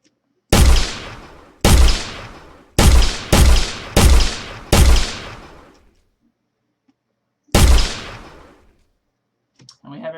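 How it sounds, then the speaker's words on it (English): Projectiles fired in an Unreal Engine 4 shooting range game: six sharp, loud shots in an uneven burst, then a pause and one more, each with a short decaying tail and near silence between. "We're able to fire projectiles, spawn new ones"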